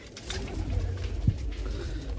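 Pigeons coo softly in a loft, low throaty calls repeating under a light room hum, with one brief louder bump partway through.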